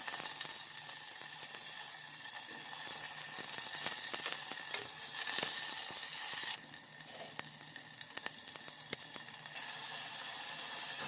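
Chopped onion and curry leaves sizzle in hot oil with a little rock salt, a steady crackling hiss throughout with faint stirring clicks, close and without speech.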